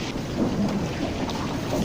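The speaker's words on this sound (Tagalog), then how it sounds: "nagisa na nga po ako ng bawang at sibuyas dito." Steady crackling sizzle of garlic and onion frying in a hot pan, a dense continuous hiss with no voices.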